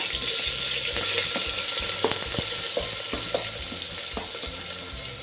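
Onion going into a hot pan with chilli and sautéing, a steady close sizzle and crackle with scattered clicks of stirring, continuous throughout with no talking.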